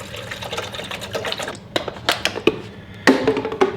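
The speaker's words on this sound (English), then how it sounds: "Dumping the water in." Water pours and splashes into a pot in a few short bursts, with clanks and a faint mechanical whir underneath.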